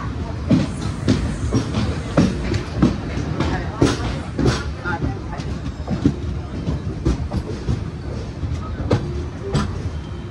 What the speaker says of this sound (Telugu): రేణిగుంట నుంచి డిపార్ట్ అయిపోయింది మన ట్రైన్